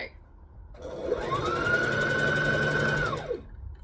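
An overlocker sews a seam in a close, continuous whirring run of about two seconds, rising up to speed and winding down at the end, with quiet room sound on either side.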